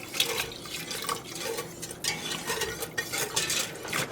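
Milk being whisked into a thickened roux in a skillet for a rotisserie chicken pot pie, close, busy scraping and sloshing of a whisk against the pan in quick irregular strokes.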